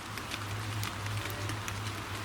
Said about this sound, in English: you can hear it's just starting to rain